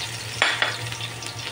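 Garlic drops into hot cooking oil with a steady sizzle, broken by two quick scraping stirs near the start, all close and moderately loud.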